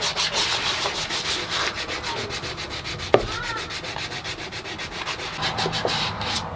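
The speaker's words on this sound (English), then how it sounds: "we'll just round it over a little bit with the sandpaper" Sandpaper rubs back and forth over the edges of a small wooden fish-shaped pencil holder, a steady close scratchy rasp in quick repeated strokes with one sharp knock midway.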